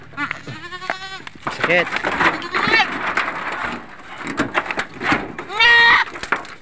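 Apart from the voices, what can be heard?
goats bleating on a farm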